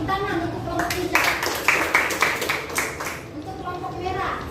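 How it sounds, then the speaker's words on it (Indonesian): Classroom applause for the green group: a short burst of clapping from students, fairly close and lively, rising over a teacher's speaking voice and fading after about two seconds as talk resumes. "Tepuk tangan untuk kelompok hijau."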